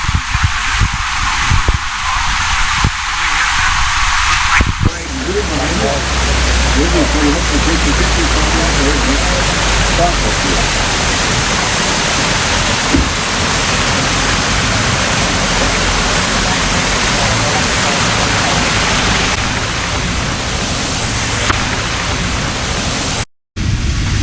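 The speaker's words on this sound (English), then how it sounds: "We're sitting on a weir here." Water pours over a weir in Dogwood Canyon Nature Park near Branson, Missouri, a loud, steady broadband roar heard close up, with a quieter, thinner stretch at the start before the full rush takes over.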